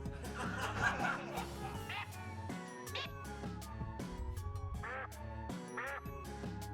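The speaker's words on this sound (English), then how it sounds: "it makes a duck sound" Several quacking duck calls from the game I Wanna Maker ring out over busy, layered game sounds and music, some pitched higher and lower, fairly quiet overall.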